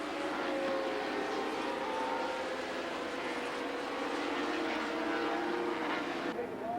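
Yamaha and Kawasaki racing motorcycles on the Daytona banking during the 1993 Daytona 200 make a steady, fairly faint engine drone that carries on without a break.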